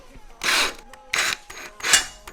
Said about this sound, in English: Now I'm gonna tap through here and then tap on the bottom.